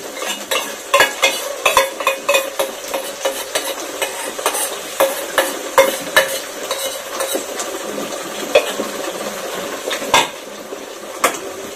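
Cauliflower stalks fry in hot oil while a utensil stirs and scrapes the pan, giving a steady sizzle broken by frequent sharp clinks and scrapes at an irregular rhythm, close and fairly loud with no talking.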